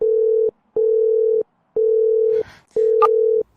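A telephone ringback tone repeats four times in steady, evenly spaced beeps with short gaps, unanswered, with faint rustling between the tones.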